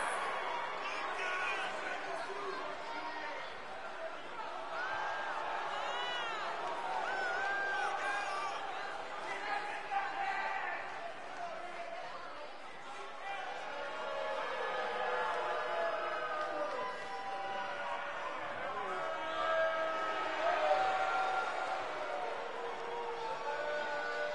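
Steady arena crowd murmur and chatter from a wrestling crowd in the video game WWE 2K19, an NXT show, continuous throughout at moderate level with swells of cheering.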